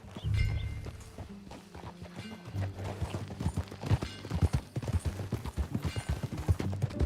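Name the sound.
horse hooves clip-clopping, video game Red Dead Redemption 2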